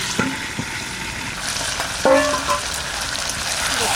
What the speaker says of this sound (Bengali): গরম করে মাছগুলো সব ছেড়ে দেবে